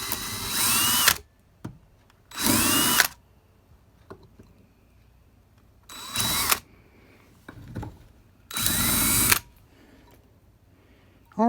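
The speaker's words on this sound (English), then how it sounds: "sometimes you can take a small drill bit, and once you hit that drill bit," Four loud bursts of a power drill with a small bit whirring at high speed, drilling into a gas water heater, each lasting about a second, separated by short quiet pauses with faint clicks.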